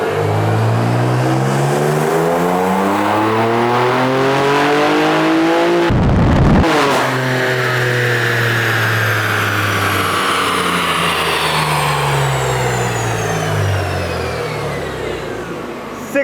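A tuned BMW G87 M2 engine with a JB4 map on E40 fuel revs hard through the gears, rising pitch with a sharp shift break midway, then pulling loudly again.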